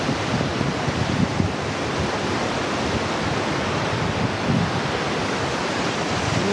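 Takakkaw Falls, a waterfall in Yoho in Canada, roars with heavy water in a dense, unbroken rush of broadband noise, loud and close, with no voices.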